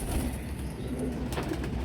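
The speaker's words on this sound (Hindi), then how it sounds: "ये देखिए पूरा ही गगन चुमी कबूतर है" A pigeon coos softly, low and a little muffled, over a steady background hum at fairly close range.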